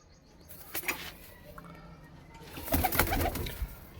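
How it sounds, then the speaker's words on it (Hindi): Punjabi malai chhatri pigeons kept for sale in Ludhiana coo and flutter at close range, with soft repeated calls rising into a busier cluster of cooing toward the end, no voices present. "इसमें एक से एक चढ़ता हुआ कबूतर है छतरी का"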